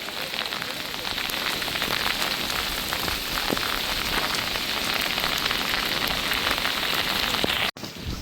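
Heavy rain pours steadily in a dense, unbroken hiss of drops, with floodwater running over a road, loud and continuous throughout, cutting off abruptly near the end.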